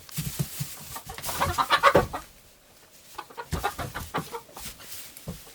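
Chickens cluck and squawk in a farmyard where a small goat is playing among them, a busy burst of close fowl calls, then quieter scattered clucks after a short lull.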